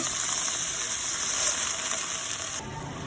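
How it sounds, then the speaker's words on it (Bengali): Water hits a hot pan holding fried catla fish and onions, setting off a loud, hissing sizzle that fills the moment, then drops sharply in intensity near the end. "এখন একটু পানি দিচ্ছি"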